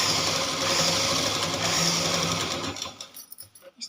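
A sewing machine stitches the princess-cut seam of a lehenga blouse, whirring steadily and close up for nearly three seconds before it stops and a few soft handling sounds follow.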